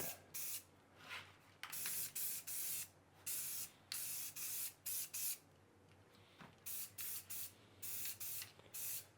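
Repeated short bursts of spray paint hissing from a can onto car interior parts, each lasting about half a second to a second, with brief pauses between them, close and clear.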